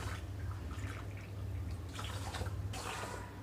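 Water pouring into a pot of rinsed rice for tamarind pulihora, a steady splashing trickle with brief drip-like bursts, close and alone.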